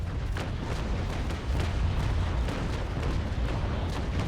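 Cannon broadside from a sailing warship in the naval combat game Naval Action: a dense, rumbling barrage of repeated booms rolling continuously for several seconds, loud and heavy.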